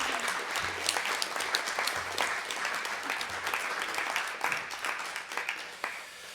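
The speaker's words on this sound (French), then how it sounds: "Je pense qu'on peut applaudir nos intervenants et les remercier." An audience at a rural innovation awards round-table applauds the panel speakers, a steady, dense wash of clapping that carries through the whole stretch at a moderate, even level.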